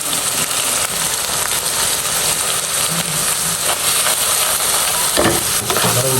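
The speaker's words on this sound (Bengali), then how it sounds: "তারপরে আদা রসুনটা একটু ভালোভাবে একটু ভেজে নেবো" Onion, ginger-garlic paste and spices frying in a pan while being stirred, a dense, loud, continuous sizzle close up with occasional scraping strokes and a heavier knock near the end.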